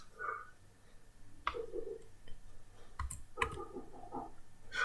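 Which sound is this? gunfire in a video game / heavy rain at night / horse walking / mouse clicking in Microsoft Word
mouse clicking in Microsoft Word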